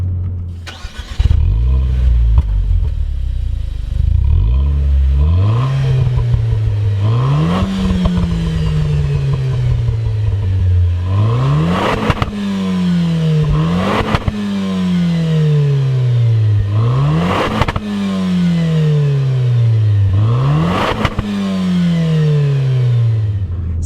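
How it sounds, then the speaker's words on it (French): Renault Clio 4 RS18 fitted with an Akrapovič exhaust line, revved hard in a series of sharp blips that rise and fall repeatedly, loud and close, with crackles between the rises. "Je vous mettrai le son à l'échappement"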